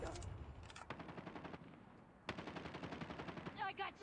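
Rapid automatic gunfire in the mobile shooter Call of Duty Mobile: dense rattling bursts of shots, a short pause, then another sustained volley, fairly quiet overall.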